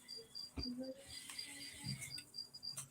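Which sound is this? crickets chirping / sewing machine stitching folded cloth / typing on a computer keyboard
crickets chirping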